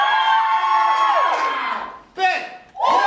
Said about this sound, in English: cheer loudest for who you want to win